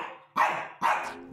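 A Shih Tzu dog barks twice, two sharp, close barks about half a second apart, alone with no talk.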